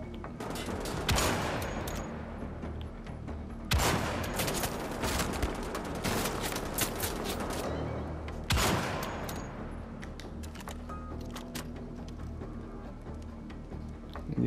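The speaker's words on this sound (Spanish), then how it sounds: "Dieciséis tiros." Bursts of gunfire from the video game Wolfenstein: The Old Blood, with three loud volleys of rapid shots separated by quieter stretches of scattered shots and game noise.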